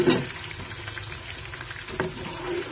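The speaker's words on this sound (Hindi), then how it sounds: "ऑयल गर्म हो चुका है। अभी हम इसमें प्याज डालेंगे।" Sliced onions go into hot oil and sizzle with a soft, crackling fry, with a couple of brighter bursts of spattering.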